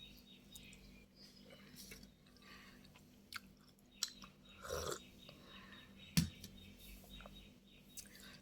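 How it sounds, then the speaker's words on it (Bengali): Someone quietly chews soaked chickpeas and peanuts up close, making faint, irregular crunching and mouth sounds with a few sharper bites. "আর হচ্ছে ছোলা বাদাম ভিজিয়ে রেখেছিলাম, একটু খেলাম।"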